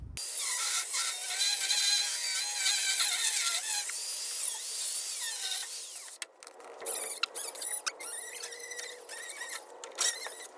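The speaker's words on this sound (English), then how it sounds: "So we're gonna slice that off real quick, and we'll move forward." A step is sliced off a metal bracket on a 1960 Ford Fairlane project, first a steady high whining cut for about six seconds, then choppy bursts of grinding and clattering, close and loud.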